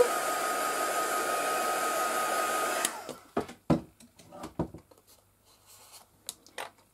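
A hair dryer blows steadily and loudly for about three seconds, then cuts off, followed by scattered soft handling clicks and rustles in a quiet room.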